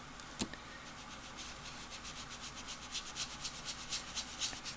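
Sponge dabbing ink onto a paper card for a stamped greeting card, a series of soft, quick rubbing pats repeating in an even rhythm, close and quiet.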